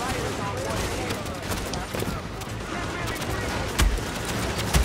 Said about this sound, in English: what are they, just shooting at me right now?